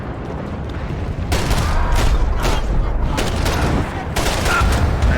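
Gunfire in the Max Payne 3 video game, a dense run of sharp shots and booming bursts, some rapid like a fusillade, loud and close, with faint speech in the background.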